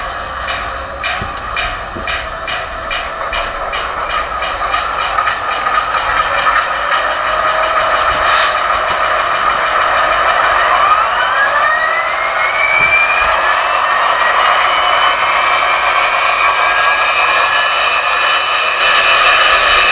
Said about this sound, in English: So let's start her up with function 3.